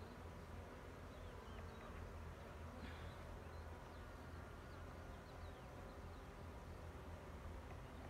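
Dense, steady buzzing of many honeybees swarming close by around an open hive, a constant hum with individual bees zipping past.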